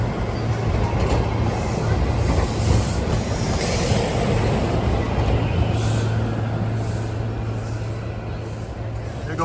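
A SEPTA Doylestown Express commuter train rolls past close by with a steady rumble, wheel noise and faint squeals that persist throughout and swell at moments.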